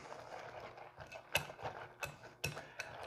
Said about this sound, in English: You don't need no electric mixer for this. Just whisk it around real good.